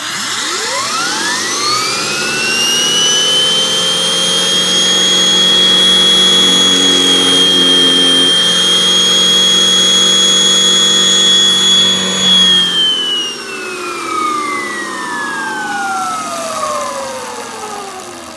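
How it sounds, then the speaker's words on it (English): A Vacuflo central vacuum power head spins its bristle brush roll with a loud, steady motor whine that rises, holds a sustained high tone for several seconds, then winds down as it slows, close and alone. "Let's watch the bristle spin,"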